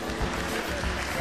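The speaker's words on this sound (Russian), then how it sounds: "Я думаю, что вашими аплодисментами вы поддержите молодых артистов." An audience applauds at a concert, a dense, steady wash of clapping heard close and continuous throughout, with no voices standing out.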